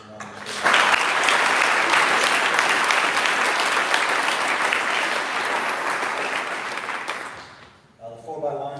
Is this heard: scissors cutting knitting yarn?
no